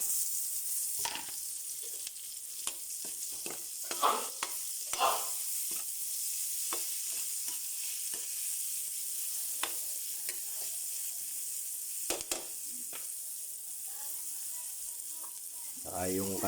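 Garlic and onion sautéing in a pan, a soft continuous sizzle punctuated by frequent sharp stirring and scraping clicks, fairly close and moderately quiet.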